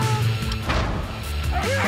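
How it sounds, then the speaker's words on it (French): A pack of dogs at a glacier barks and yips in quick, overlapping, close bursts, with a whimper and a thud mixed in. "Sarah, voici une belle meute de chiens."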